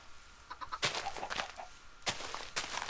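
Minecraft chicken clucks in short bursts, a few sharp squawks over a low, quiet background.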